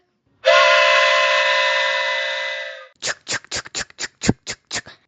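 A long, bright steam-style train whistle blows for about two seconds. Then a quick run of rhythmic chuffing puffs follows, like a locomotive pulling away, loud and close with no talk.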